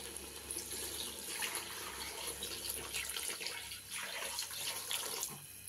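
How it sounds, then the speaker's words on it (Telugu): About a litre of water poured into a pot of chicken sherva curry, a continuous close gushing pour and splash that fades briefly and resumes, with no voices. "ఇప్పుడు 1 లీటర్ పోసుకున్నాను నీళ్లు"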